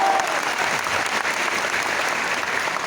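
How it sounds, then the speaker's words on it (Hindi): Audience at a motivational seminar breaks into dense, sustained applause, loud and close, with many hands clapping evenly throughout and no talking. "एक बार तालियां बजा के बता दीजिए"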